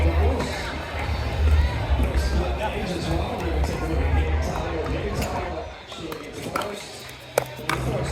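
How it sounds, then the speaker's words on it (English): Loud, continuous crowd murmur and cheering from a big audience gathered near a championship court screen at a pickleball tournament, a dense wash of voices with occasional sharp taps and thumps, heard over a commentator talking. "so there's a big crowd back there"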